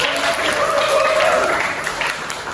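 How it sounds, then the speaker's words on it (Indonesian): A classroom of students applauds, a dense, steady burst of many hands clapping at close range that fades slightly toward the end. "Oke, beri aplaus untuk kembali ke"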